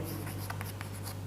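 Chalk or marker scratches on a board in short strokes during a math lesson, faint against a steady low hum, with no talking.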